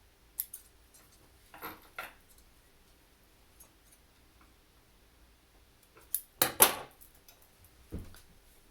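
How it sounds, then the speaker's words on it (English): Scissors snip sewing thread close to the edge of a home-sewn fabric face mask, a few faint, sharp, isolated clicks spaced across quiet pauses, with a couple of louder snips near the end. "it's easy to just snip it right close to the edge"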